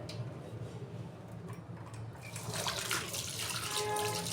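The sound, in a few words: water pouring into a bowl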